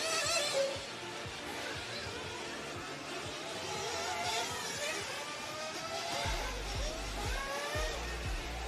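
An RC race car at an IFMAR world championship qualifying session crosses the start-finish line, its high-pitched motor whine rising and falling steadily under constant track noise throughout.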